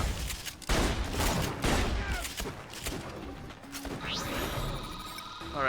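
Rapid bursts of gunfire from the Borderlands Pre-Sequel video game, loud and dense, with repeated volleys and a whining electronic tone near the end.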